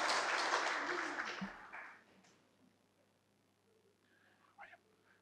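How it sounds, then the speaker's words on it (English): Audience clapping at a school prizegiving ceremony, a loud burst of applause from a crowd in a hall that fades over about two seconds, followed by quiet room tone and a brief voice. "do you mind just holding your clap till the end of my speech?"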